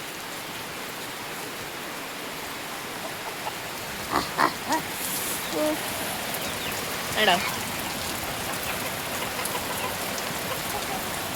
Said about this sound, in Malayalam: നല്ല മഴയാണ്